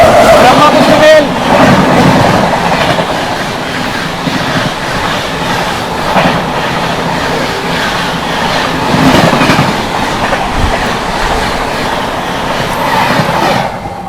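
The 12368 Anand Vihar–Bhagalpur Vikramshila Express runs fast at around 130 km/h, with a steady loud rumble and rhythmic clickety-clack of wheels over rail joints heard from on board, continuous over the whole stretch.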